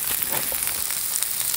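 Halloumi seasoned with pepper fries on an electric plancha, giving a steady, close crackling sizzle that holds at an even level throughout, with no talk.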